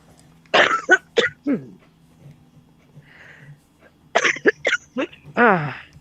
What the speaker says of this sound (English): I want you to cough out all of that grit